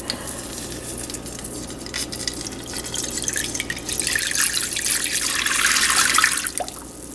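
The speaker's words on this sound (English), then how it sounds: "pour 3 cups of water into the pan very carefully" Water is poured into a pan on a stove, a steady close rush and splash that grows louder and brighter toward the end before easing off, with no talk.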